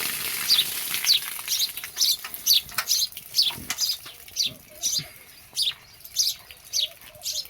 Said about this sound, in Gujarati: હમણાં જોજો ચકલી તો અહીંયા જ બોલે